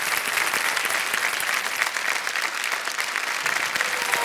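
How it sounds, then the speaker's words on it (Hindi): Loud, sustained audience applause fills a TV quiz show studio on the set of Kaun Banega Crorepati, a steady dense clapping wash that holds without a break from start to finish. "जोरदार तालियां बज जाए साक्षी जी के लिए"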